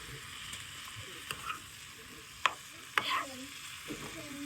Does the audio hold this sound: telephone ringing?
no